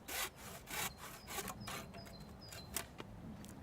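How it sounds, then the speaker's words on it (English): A handsaw cuts through a length of wooden batten in steady back-and-forth strokes, each rasping pass clear and close, roughly seven strokes with no speech. "Cut a length of batten to fit across the lintel at the opposite end of the tunnel."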